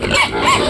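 Pigs grunt and squeal at feeding time on a small backyard farm of thirteen head fed soaked feed, a short burst of close, loud oinks.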